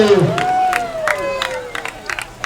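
A zoo crowd at a Blackpool Zoo sea lion show applauds and cheers for Zana the sea lion, with scattered clapping and cheers under a whistle-like tone that rises and falls across the short stretch.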